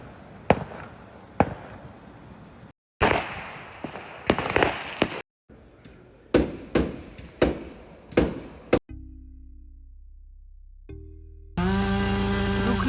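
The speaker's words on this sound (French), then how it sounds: "Là, ça pète de partout. C'est la soirée où ils envoient des feux d'artifice." Fireworks bursting during a festive night, a series of sharp bangs and crackling pops at varying distances in irregular bursts, some echoing, with a brief tonal sound near the end.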